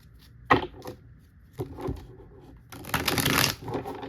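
Tarot cards are shuffled by hand in quick riffles and flicks: a sharp burst, a pause, a short double riffle, then a longer fluttering shuffle, close and clear in a quiet room.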